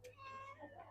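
A cat gives a single drawn-out meow with a rising and falling pitch, close and clear, beside a street-food stall grilling satay.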